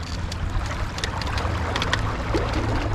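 A small 2.5 m inflatable dinghy runs on an electric motor across the water, giving a steady low drone with continuous wash and splashing and no voices.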